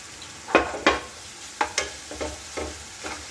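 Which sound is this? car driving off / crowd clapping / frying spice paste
frying spice paste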